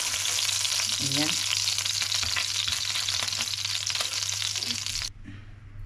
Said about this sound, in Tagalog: Kaya ipa-fried muna ng 2 minutes bago igisa ulit.